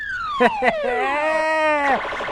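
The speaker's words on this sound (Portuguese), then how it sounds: "Toca a sirene da polícia." Police car siren sound effect: a loud electronic wail sweeping down then up in pitch, with two brief sharp bursts near the start, running alone for about two seconds.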